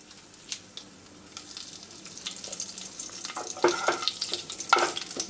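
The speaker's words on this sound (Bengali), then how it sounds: "তো কড়াইতে দিয়ে দিলাম তেল, এবার দিয়ে দেব একটুখানি একটা এলাচ, একটা দারচিনি, একটা শুকনো লঙ্কা" Cardamom, cinnamon and dry chili fry in oil in a wok, a soft crackling sizzle that grows louder and busier toward the end, with scattered pops and no speech.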